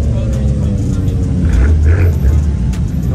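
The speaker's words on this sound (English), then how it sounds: "Ooh, that M3 sounds nice." A BMW M3 engine revs with a deep, rumbling growl at close range, its loudness swelling briefly midway with steady background noise around it.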